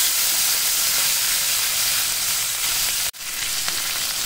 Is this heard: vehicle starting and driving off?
no